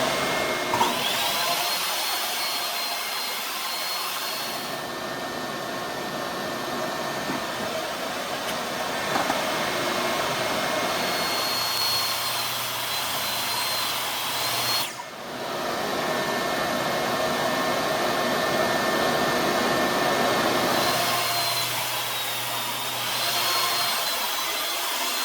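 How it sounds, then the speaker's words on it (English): A table saw rips along the edge of a cherry wood board, a loud, steady broadband whine that runs continuously with brief dips where the cut changes, the blade's drone holding near and dominant throughout. "I'll put that against my table saw fence and rip the other edge clean"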